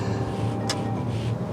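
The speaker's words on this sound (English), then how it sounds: "Give it some throttle." A 2021 Range Rover Westminster Edition engine pulls steadily under throttle on a multi-lane road, a continuous low drone with wind and road noise, fairly loud and close, with a brief hiss partway through.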